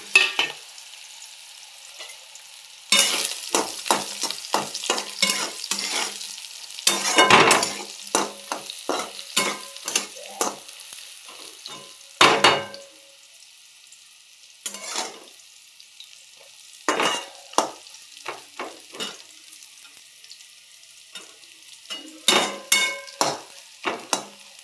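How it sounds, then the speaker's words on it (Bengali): Nigella seeds and green chillies crackle and sizzle in hot oil, with loud bursts of spitting and frequent stirring clatter that rise and fall. "তেল গরম হয়ে গেছে, এবার একটু কালো জিরা ফোড়ন দিয়ে দিলাম, এবার কাঁচা লঙ্কা দেবো"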